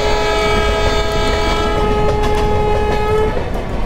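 Horn of the Deccan Express locomotive in a train simulator, one long steady blast held for about three seconds over the continuous rumble of the moving train, loud and close.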